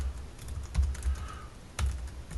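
Keys on a computer keyboard clatter in short close bursts of typing separated by brief pauses, with no voices.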